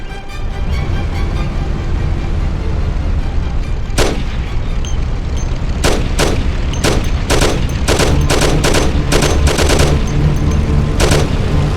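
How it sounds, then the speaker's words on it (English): Loud Thompson submachine gun bursts in a 1930s gangster car chase in Mafia, rapid rattling volleys repeating in close succession over a constant roaring car engine. "Take my Thompson. You and Sam shoot them."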